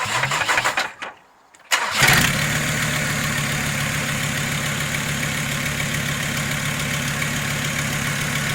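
A Mercedes OM606 diesel engine with a supercharger and no exhaust system fitted yet cranks briefly, catches, then settles into a loud, steady, close idle with a rhythmic diesel clatter.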